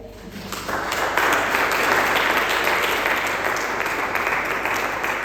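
A church congregation applauds and cheers in praise of the Lord, steady dense clapping and acclaim rising quickly and sustained throughout, loud and close.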